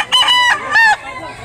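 A rooster crows twice in quick succession at a chicken market in Consolacion, North Cebu, each loud harmonic call close by over faint market noise.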